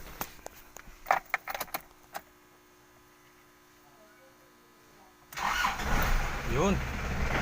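A car engine catches and starts after its battery has been charged, following several sharp clicks and clatters; the engine then settles into a steady, fairly loud running rumble close by.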